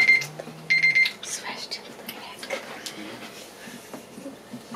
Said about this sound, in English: That's your alarm?